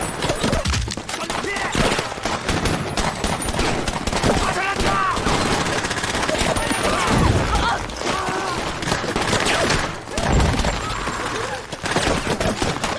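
Gunfire exchange in a war film battle scene between North Korean troops and opposing soldiers, with dense crackling shots and bursts running throughout, loud and continuous, mixed with a busy soundtrack and occasional voices.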